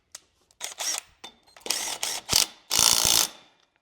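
A ratchet with a 5/8 socket tightens a long bolt on a Craftsman YT3000 lawn tractor, several close, loud bursts of rapid clicking with short pauses between.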